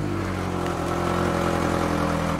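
A truck engine runs steadily up close, a continuous throaty drone with a strong low hum that holds even and loud for the whole stretch, with no voices over it.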